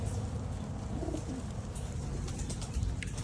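Young pigeons coo softly in a loft before release for their first toss, low murmuring calls running steadily through the whole stretch against a busy background.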